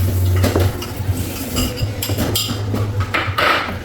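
Rice poured into a heated metal cooking pot on a home stove, with scraping and clinking of utensils against the pot and faint sizzling, close and fairly loud.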